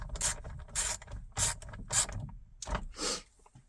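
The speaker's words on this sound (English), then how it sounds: "Take your wrench. Remember, they go in at a weird angle from the back. Go ahead and crank that one down." A hand wrench ratchets screws tight into a car steering wheel, driven in at an angle from the back; six crisp bursts of ratcheting clicks come in a steady rhythm, close and fairly quiet with no talk.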